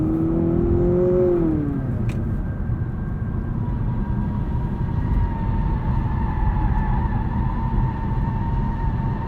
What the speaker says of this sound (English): Let's do a quick 60 to 0 braking test. Let's get up on the highway here.